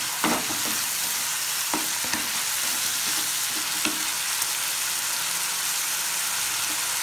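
Mutton and spices sizzling in a pan, a steady close fry with scattered stirring clicks and scrapes of a spoon against the pan, no voices.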